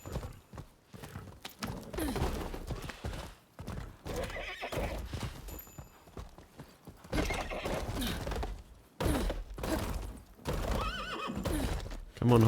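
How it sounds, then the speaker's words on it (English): Horse neighs and clip-clopping hooves from the video game Rise of the Ronin, loud and repeated, mixed with game sounds and someone talking over them. "Come on, horse."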